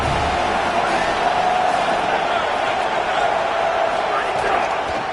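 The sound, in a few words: football stadium crowd cheering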